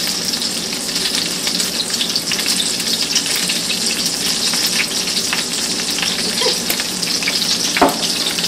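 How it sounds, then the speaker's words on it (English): A pot of Chinese-style borracho beans simmers on the stove with a dense, steady bubbling hiss throughout, close and fairly loud, with a faint knock toward the end. "I'll combine that and then let it continue to simmer"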